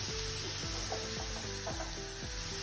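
Onions frying in a pan as the base for a phodnicha chura of crumbled chapati, a loud, dense, unbroken sizzle with repeated rhythmic stirring scrapes, close up and with no talking.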